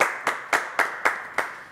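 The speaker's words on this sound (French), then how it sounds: "On l'applaudit, Lydia" Six slow, sharp claps spaced about a quarter second apart in a French live show, loud and close, with no crowd sound filling the gaps.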